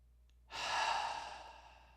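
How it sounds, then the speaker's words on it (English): One deep, slow breath during a yoga flow, a breathy exhale or sigh that starts suddenly, stays close and clear, then fades gradually in quiet surroundings. "One more big round of breath."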